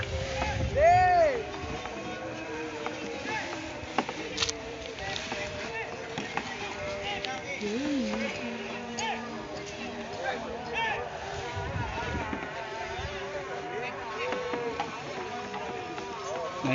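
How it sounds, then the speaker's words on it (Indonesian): A purse seine fishing boat comes in to dock at Mandangin Island, its engine droning steadily under background voices and harbor activity. "ini lagi kapal yang mau melakukan penyandaran untuk juga dilakukan perbaikan kapalnya maupun jaringnya."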